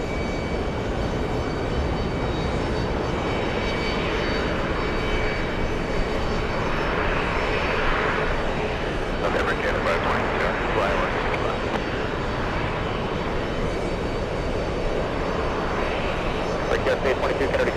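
Airliner landing at JFK Airport, a loud continuous roar of jet engines that holds steady throughout, heard from a nearby spotting point.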